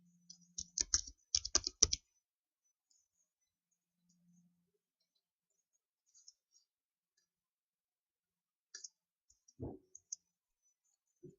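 Computer mouse clicks and keyboard typing while working in a spreadsheet, with a short flurry of quick, close clicks at the start, then long quiet gaps broken by a few isolated soft clicks.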